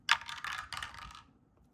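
Dice rolled on a hard surface for a board game, a close clattering tumble with several quick rattling bounces that settle, then a faint click at the end.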